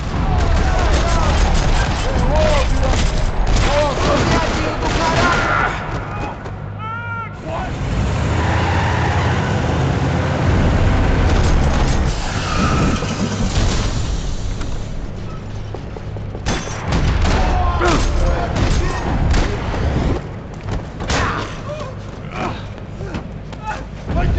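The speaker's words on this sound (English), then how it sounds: "Another parking lot rattling with gunfire." Gunfire rattles across a parking lot in the Max Payne 3 video game: dense, steady bursts of shots and booms with vehicle rumble, mixed under music and character voices throughout.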